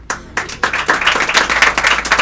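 Applause from an audience at a Hindi poetry recital: a dense burst of hand clapping starts abruptly and carries on steadily at a fairly loud level, with no voices over it.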